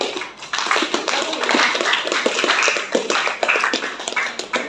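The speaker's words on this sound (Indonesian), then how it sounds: "Oke, tepuk tangan untuk kelompok" Scattered clapping from a small class or discussion group in a teacher-training session, uneven and patchy hand claps with a few sharper taps standing out, moderately close, no talk.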